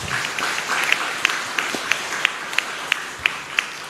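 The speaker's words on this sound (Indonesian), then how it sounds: "Kita beri tepuk tangan buat Chang Zesang." Steady audience applause at a Buddhist temple ceremony fills the clip, a dense wash of many hands clapping with a few sharper claps standing out at regular intervals.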